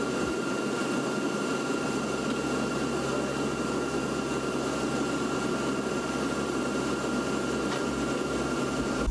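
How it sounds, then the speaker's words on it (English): Steady broadband roar of C-130 propeller aircraft flying in formation overhead while shooting flares, constant and loud throughout with no voices. "These C-130s flying in formation while shooting flares."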